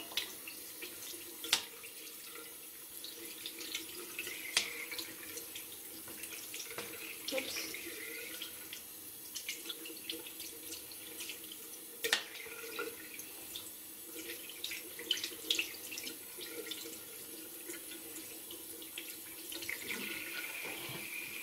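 A kitchen or bathroom tap runs in a soft, steady stream while makeup brushes are rinsed under it, with faint splashes and small knocks over the quiet flow.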